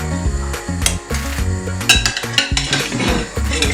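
Chunks of yam dropped into a pot of catfish pepper soup, with loud clanks and knocks of metal utensils against the pot and a steady simmering underneath.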